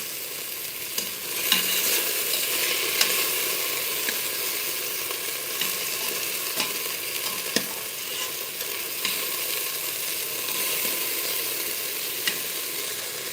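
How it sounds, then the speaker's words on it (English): Beef stew meat searing in a hot pan, a steady loud sizzle and crackle with occasional sharp pops, no talking. "I want to make sure it's seared on all sides"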